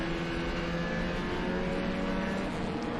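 Race cars on the Mid-Ohio Sports Car Course in a NASA Great Lakes Lightning race, heard as a steady, fairly distant engine drone with sustained tonal whine and no clear pass-by.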